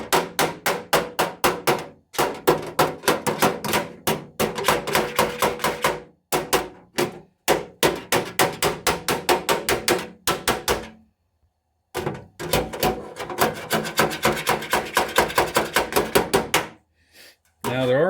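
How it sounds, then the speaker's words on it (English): Rapid, ringing metal hammer blows against the inside of a tourist camp stove backed by a dolly, fast rhythmic bursts with brief pauses between runs, close and loud. "I'm going to hold that dolly against the back of it there while I'm smacking on the inside"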